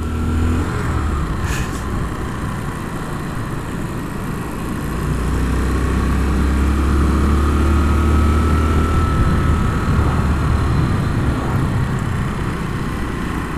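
A Yamaha SR400 motorcycle engine drones steadily on a test ride, a close, continuous low rumble mixed with wind rush that swells slightly partway through, with no talking.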